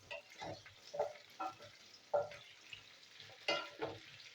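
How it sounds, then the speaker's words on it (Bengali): Meat frying with salt and taro in a pan, with a quiet sizzle broken by several sharp bursts of stirring and scraping at irregular intervals. "নুনের সাথে মাংসটা ভাজবো।"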